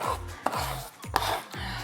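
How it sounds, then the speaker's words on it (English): A knife chops through a potent onion on a cutting board in four steady strokes, each a sharp, close tap followed by a brief low thud, evenly spaced with no talking. "I'm chopping the onion and crying"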